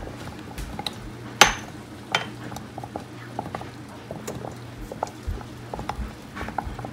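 Spoon clinks and scrapes softly against a pot while baking soda and cornstarch are stirred and clumps are pressed against the sides for homemade deodorant, with a sharper knock near the start and faint irregular taps after.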